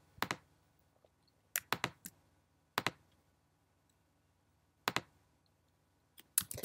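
A computer mouse is clicked while the Alt/Option key is held, producing sharp, close clicks in small clusters, some doubled, separated by quiet gaps, faint overall with no speech.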